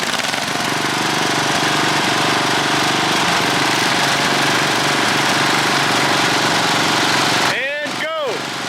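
Several small lawn mower engines rebuilt as mud mowers for a tug of war run together at full throttle in a loud, steady, continuous drone, then cut out near the end, leaving a brief squeaky whistle.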